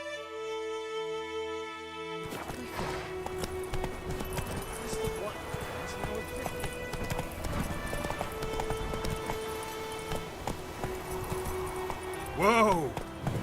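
Geralt's horse Roach gallops in The Witcher 3, a continuous clip-clop of hooves close up over a bed of game music, with a brief spoken line and a whinny-like flourish near the end.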